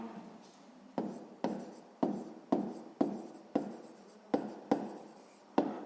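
Pen or pencil writing out a sixth-grade math solution on paper, heard as a close, steady series of about nine sharp strokes and taps at roughly half-second intervals over soft scratching, with no talking.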